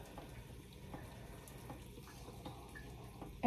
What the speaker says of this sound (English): And pour that stock in there.